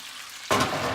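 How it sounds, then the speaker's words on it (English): A sudden burst of sizzling starts halfway through as chicken hits a hot pan, then continues as a steady close hiss. "It's like a sizzle is happening."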